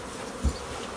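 Africanized bees buzz steadily around a small hive box, a faint close hum with one brief low thump partway through.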